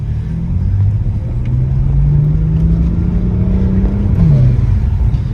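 A car engine revs steadily with a deep, rising drone, then its pitch dips near the end; loud and close, with no talking.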